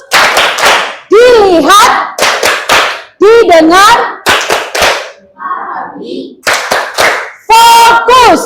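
A classroom's rhythmic 'tepuk fokus' clap chant: a teacher and pupils call out sung words, punctuated by sharp, loud rhythmic hand claps in bursts between the voices.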